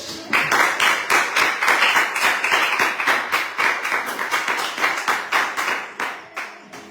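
A church congregation claps in a steady, fast rhythm during a prayer and worship gathering, dozens of sharp hand claps close by and loud, tapering off near the end.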